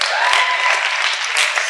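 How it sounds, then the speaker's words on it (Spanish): Audience at a Catholic leadership talk gives a brief round of applause, a bright, steady burst of clapping at close range lasting under two seconds. "Un aplauso para Angie."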